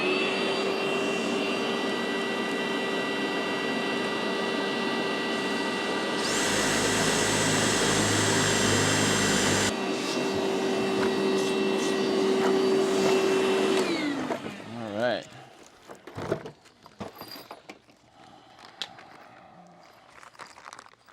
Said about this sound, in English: let's get the vacuum going right away